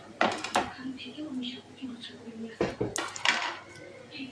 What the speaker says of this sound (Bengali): সব একসঙ্গে মিশিয়ে নিলাম।